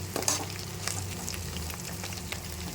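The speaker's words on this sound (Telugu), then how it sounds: "ఇదిగోండి మనకి మసాలా కూడా బాగా వేగిపోయిందండి" Ground spices and garam masala frying in a pan for tomato rice, a soft steady sizzle with faint stirring scrapes, fairly quiet and without voices.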